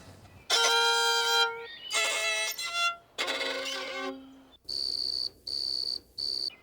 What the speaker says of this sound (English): A grasshopper makes sound by rubbing its leg against a wing